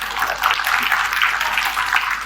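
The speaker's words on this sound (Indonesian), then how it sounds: "Itu bukan tepuk tangan bagi saya loh, tapi bagi Tuhan" A church congregation claps together in a sustained, dense burst of applause, loud and close, filling the room evenly for a couple of seconds with no talking over it.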